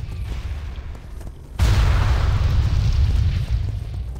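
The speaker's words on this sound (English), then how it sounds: "this place is exploding left and right" A loud explosion bursts in World of Warcraft, a sudden heavy boom that jumps in halfway through and rumbles on as a sustained roar of blasts, with no talk over it.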